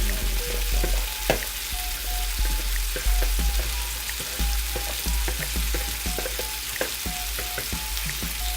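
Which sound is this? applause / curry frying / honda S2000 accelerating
curry frying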